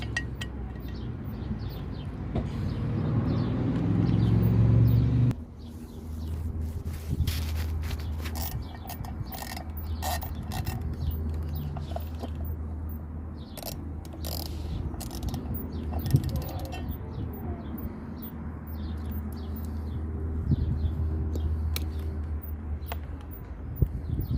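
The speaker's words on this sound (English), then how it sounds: "we still need to remove these other two screws, so I'm just gonna do that" Hand tools loosen and remove screws on a 2012 Triumph Street Triple 675 R motorcycle during a stator and rectifier change. Scattered close clicks, ratcheting and creaks sound over a low steady hum, after a louder rumbling stretch at the start.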